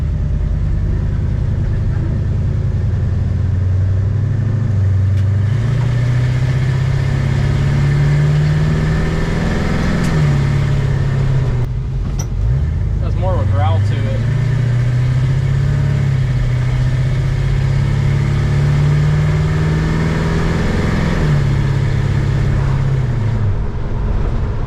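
A 1955 Plymouth's engine running with its exhaust cutouts closed, a loud, close, continuous low rumble with a few small shifts in revs across almost half a minute.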